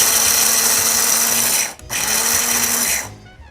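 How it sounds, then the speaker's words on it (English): An electric spice grinder whirs steadily as it grinds korerima, a loud continuous motor buzz that cuts out briefly, restarts, and then winds down near the end. "So here I have the Korerima in my spice grinder,"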